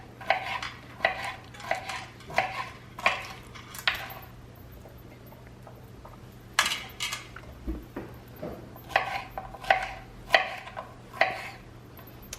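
Knife cutting tater tot egg bites in a muffin pan, a series of sharp metallic clicks and scrapes against the pan in irregular bursts, fairly close, with a pause in the middle and no talking.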